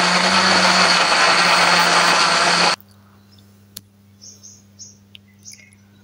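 A kitchen blender grinds tomato, shallot, garlic and chili into a paste with a loud steady whir that cuts off abruptly partway through, followed by faint clinks and light handling sounds.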